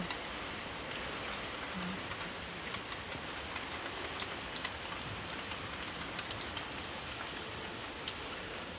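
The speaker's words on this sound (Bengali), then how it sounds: "বৃষ্টি শুরু হয়ে গেছে" Steady rain falling outside, heard from a balcony, an even dense patter on surfaces with scattered close drips, continuous and unbroken, with no voices.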